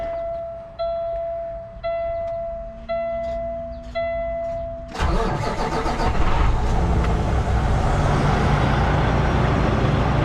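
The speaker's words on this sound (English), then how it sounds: "I'm just gonna start the engine" A 60-ton RGN trailer's truck engine gives several short intermittent warning tones, then cranks and catches into a steady, fairly close idling rumble.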